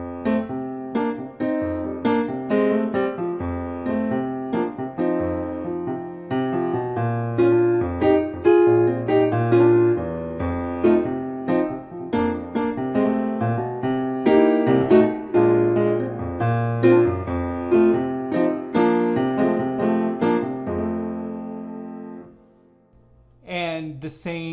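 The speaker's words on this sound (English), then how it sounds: "blues musicians would play this with straight eights, and it would sound something like this." A 12-bar blues played on keyboard with straight eighths: steady, even chords and bass notes running continuously and fairly loud, ending with a brief pause and a short sound at the close.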